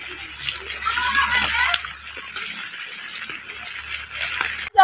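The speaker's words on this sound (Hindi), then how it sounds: "अरे बहुत पानी बरसा है बच्चा।" Heavy rain pours and splashes steadily outdoors as a broad, continuous hiss of falling water, with a few people talking loosely over it.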